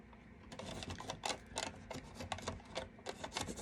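A small X-Acto knife cutting open a package of chalk paste paint, giving rapid close scratchy clicks and slicing ticks in quick irregular bursts.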